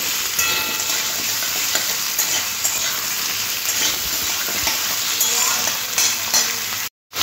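Continuous loud sizzle of papaya frying in a pan with occasional stirring scrapes, close up, no talking, ending in a brief cut.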